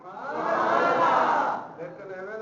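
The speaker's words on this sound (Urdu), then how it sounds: "آپ پھر مولا علی کا نعرہ لگائیں" A crowd at a religious gathering shouts a slogan in unison, a loud sustained roar of many voices lasting about a second and a half before dropping off.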